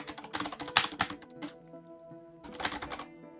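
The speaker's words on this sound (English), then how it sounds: "when you hear like really extreme typing" Fast, loud clattering bursts of typing on a nearby computer keyboard, a brief pause, then another rapid burst of keystrokes; no one speaks.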